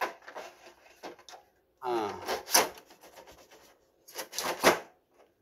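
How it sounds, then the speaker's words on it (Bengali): Plastic covers being fitted and pressed onto a Sony LBT-VR70 speaker cabinet, giving close scraping, rubbing and sharp clicking sounds in a few separate bursts with quiet gaps between them. "ঢাকনাগুলো আটকা দিলাম"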